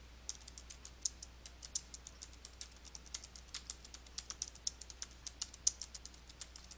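Keys clack in a quick, uneven rhythm as someone types steadily on a computer keyboard, close and fairly quiet, with no voices.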